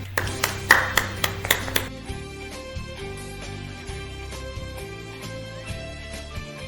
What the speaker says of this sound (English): a round of applause for these three contestants here.